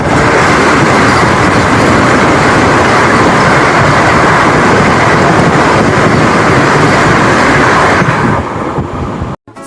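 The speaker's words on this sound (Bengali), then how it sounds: "এবার আমাদের যে ট্রেনের সাথে দেখা হতে চলেছে ট্রেন নাম্বার 22-895 হাওড়া পুরী বন্দে ভারত।" The Howrah–Puri Vande Bharat express, train 22895, roars in a loud, steady rumble with faint clattering rhythm, heard close and constant, then cuts off abruptly at the end.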